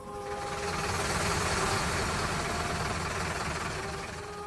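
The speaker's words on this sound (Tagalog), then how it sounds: "May narinig kasi iyong ugong ng mga sasakyan mula sa di kalayuan." Rumbling vehicle engines used as a sound effect, a dense low drone with a faint tonal hum that swells in and slowly fades, heard alone without any speech.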